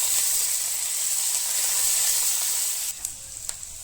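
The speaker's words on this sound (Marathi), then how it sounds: "हे असं चांगलं तळून घ्यायचं।" Mustard seeds, cumin, ginger-garlic paste and curry leaves fry in hot oil for a tempering, giving a steady close-up sizzle that stays loud throughout and ends in a few sharp pops and spits.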